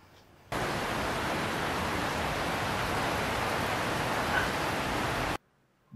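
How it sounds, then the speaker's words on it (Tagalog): Heavy rain pours steadily in strong wind, a dense, loud, unbroken hiss that starts and stops abruptly, with no voices over it. "Grabe yung lakas ng ulan."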